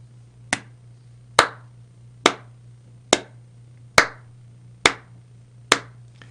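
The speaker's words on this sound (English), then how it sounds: "can I clap?" Seven sharp, single hand claps at a steady, roughly even pace, each one crisp and close with a short room decay, over a low constant electrical hum.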